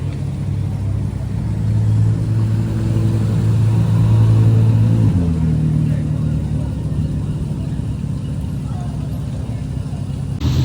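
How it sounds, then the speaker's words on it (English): A McLaren Speedtail drives past at a busy Car Week 2025 gathering. Its engine rumble swells loud and close, peaks midway, then fades steadily as the car moves off over steady crowd noise. "And there goes the Speedtail."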